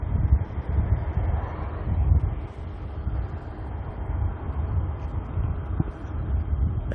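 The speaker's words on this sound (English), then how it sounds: "That wind's picking up and going to try and annoy me" Wind blowing at Auckland airport, a continuous low rumbling buffet with gusty swells rising and falling, heard close to the mic with no talk.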